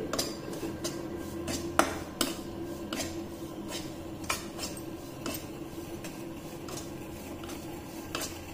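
Metal spoon scraping and tapping against a pan while semolina is stirred and roasted for kankecha shira, a steady soft rhythm of clinks and scrapes, close and fairly quiet, with no voices.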